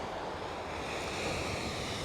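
Ocean surf along the California coast washes in as a steady, soft broadband rush, with faint wind noise over the microphone and no voices.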